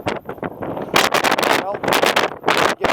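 Strong gusting wind on a mountain summit buffets the microphone in loud, uneven roaring bursts, with a few brief quieter gaps.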